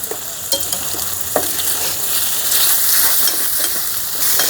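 Pork cooking in a pan, uncovered and stirred with a wooden spoon, gives a steady close sizzle and frying hiss with a few scraping stir clicks throughout, and nobody talks.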